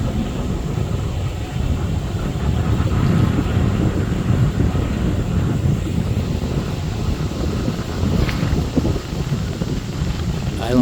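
Strong wind gusting outdoors beside the Ohio River at an off-grid campsite, a steady loud rumbling roar buffeting the microphone throughout with no break.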